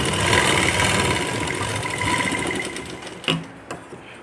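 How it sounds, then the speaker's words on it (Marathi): A sewing machine runs steadily while stitching a tassel onto a blouse, a close continuous mechanical whir that stops near the end and leaves a couple of short clicks. "डबल टिप मारून घ्यायची."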